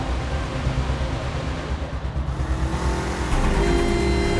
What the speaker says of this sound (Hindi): ड्राइवर, गाड़ी थोड़ा और तेज चलाओ